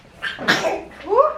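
A single short sneeze bursts out, quick and close.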